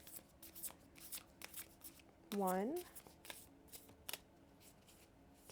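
A deck of tarot-style reading cards is shuffled by hand in a quiet room, giving repeated soft riffling bursts across the clip while a person speaks briefly and a short tonal sound rises in the middle.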